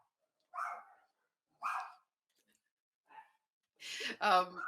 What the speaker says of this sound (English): You may have very loud dogs in the background now.